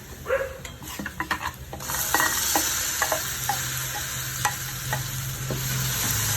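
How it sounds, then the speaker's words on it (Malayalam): Ground chutney poured into shallots fried in a pan for thattu dosa, starting with scattered clinks and stirring, then a steady loud sizzle with intermittent utensil taps and scraping throughout. "ഉള്ളി നന്നായിട്ട് മൂത്തിട്ടുണ്ട് ഇനി ചമ്മന്തി അരച്ച് വെച്ചത് ഒഴിച്ചു കൊടുക്കാം"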